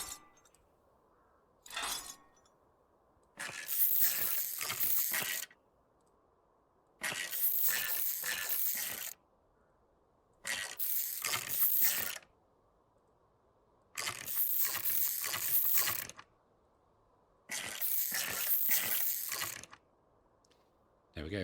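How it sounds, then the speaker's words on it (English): A ratchet refitting a brake caliper in Car Dealer Simulator clicks in six repeated bursts of rapid, bright, metallic ratcheting, each about one and a half seconds long with quiet gaps between. "So let's put the original caliper back on."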